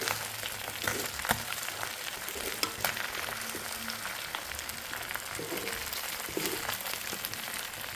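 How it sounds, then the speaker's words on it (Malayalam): Chicken pieces frying in hot oil in a pan, a steady close sizzle and crackle with scattered scraping knocks of stirring, fairly soft and without talk. "ഏകദേശം നമ്മുടെ ചിക്കൻ നന്നായിട്ട് ഫ്രൈ ആയി വന്നിട്ടുണ്ട് കേട്ടോ"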